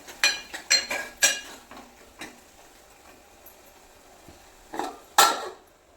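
Cucumber and tomato curry stirred in a pan on a stove, giving several sharp metallic scrapes and clinks of a spoon against the pan in irregular bursts, with quieter gaps between them and no voices.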